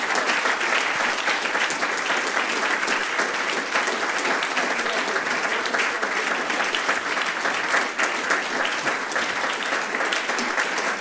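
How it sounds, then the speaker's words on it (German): Big, steady applause from an audience at a film museum talk in Frankfurt, dense clapping holding evenly for about eleven seconds with no speech over it. "Großen Applaus."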